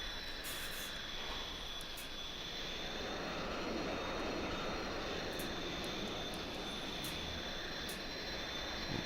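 Steady, loud airliner engine roar during takeoff in a flight simulator game, flying from Phoenix toward Flagstaff, a broad continuous rumble holding even throughout with no talk over it.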